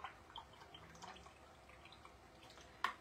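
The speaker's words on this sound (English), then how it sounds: "Rinsing my brush." A paintbrush swished and rinsed in a small cup of water: soft, faint dripping and sloshing with a few light splashes and a sharper tap near the end, quiet and close.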